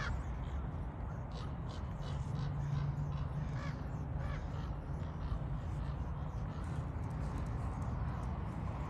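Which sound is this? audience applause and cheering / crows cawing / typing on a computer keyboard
crows cawing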